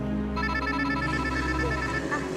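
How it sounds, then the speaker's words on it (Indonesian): A telephone rings in a home during a domestic drama scene, a steady electronic ringing tone repeating through the clip over a low background hum, fairly close and moderately loud. "Sebentar saya angkat telepon dulu ya."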